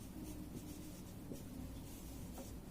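Pen scratching steadily on paper while a chord progression is written out, a faint continuous rubbing texture with small strokes, close and quiet, no talk.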